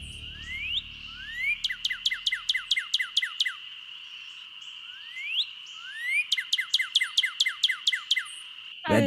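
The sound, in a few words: northern cardinal bird call in Nancy Drew video game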